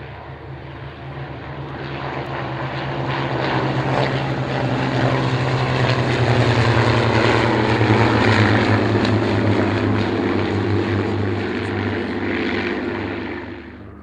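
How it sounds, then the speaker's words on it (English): A sporty aerobatic biplane's propeller engine drones loudly as it flies past, swelling to a steady roar in the middle and easing off toward the end. "Sporty biplanes, aerobatic, superbly designed and superbly constructed equipment."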